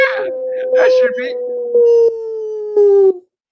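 A man imitates a wolf howl with his voice, a long sustained wavering tone that slowly falls in pitch, rising and swelling in a few loud pulses before cutting off, with brief talk at the start.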